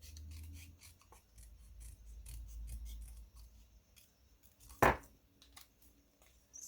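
Scissors snip through cardstock while paper tulip stems are cut out for a Stampin' Up tulip box card, giving a steady run of close, quiet crisp cuts with one sharper, louder snip near the end.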